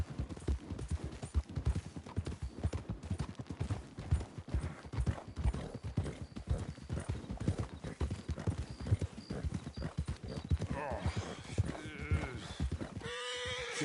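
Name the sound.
horse hooves galloping in a video game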